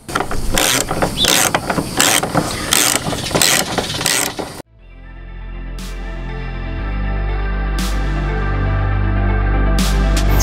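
A bolt is fitted to a Hepco & Becker tank guard on a Suzuki V-Strom 800, with rapid, close ratcheting clicks for several seconds, then a sudden cut to a low, steadily rising engine-like hum with occasional sharp taps.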